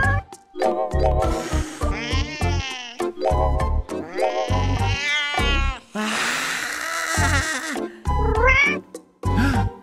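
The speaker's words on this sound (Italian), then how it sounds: "un altro gatto." Cats meow repeatedly near a beach on a summer holiday, loud drawn-out cries and caterwauls in quick succession with short pauses between them.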